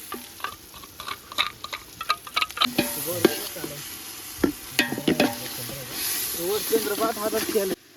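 Tomato gravy poured over fried red onions sizzles and hisses in a pot for a village-style chicken biryani, with stirring clatter and scraping throughout; a voice talks over the cooking in places.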